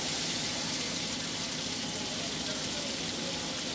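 Celery sizzling in melted butter in a pan, a steady, close hiss of frying without pauses.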